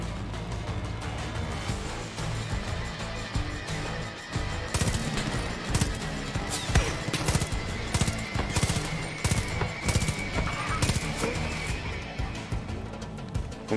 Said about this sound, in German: Und wo kommen die Schüsse?